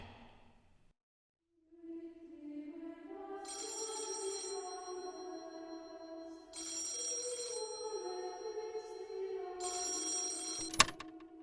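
A telephone bell rings in three long bursts separated by short pauses, fairly clear and close in a quiet room, with a faint hum between rings.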